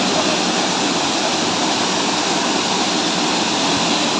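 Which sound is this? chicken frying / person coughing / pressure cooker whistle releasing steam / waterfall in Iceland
waterfall in Iceland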